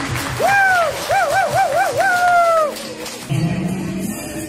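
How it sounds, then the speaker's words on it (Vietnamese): At a Vietnamese club gala in a Hannover hall, the crowd cheers with loud wavering whoops over a murmuring roar, then settles into lower chatter. "xin mọi người hãy cho một tràng pháo tay thật là lớn"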